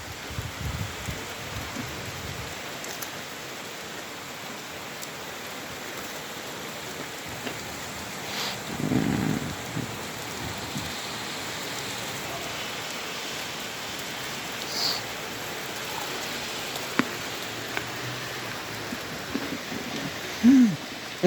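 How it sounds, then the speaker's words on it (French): Hail and rain pour down during a thunderstorm in Montélier, a steady, dense patter with scattered louder impacts throughout, heard alone at moderate loudness. "et c'est parti, grêle."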